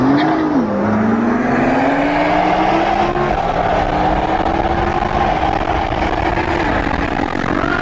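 Supercars on a road at a Dubai car event, a loud continuous engine roar with a rising and sliding whine as the cars pass at speed, close by and steady throughout, with no talk.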